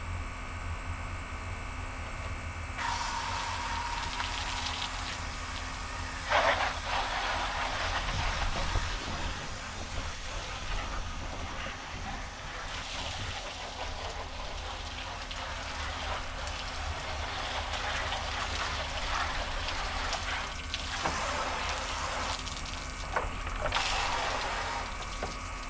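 Water from a hose rinsing down a Kyosho Jetstream 1000 nitro RC boat during restoration, a continuous hissing spray that shifts in intensity as the stream moves across the hull, with no talk.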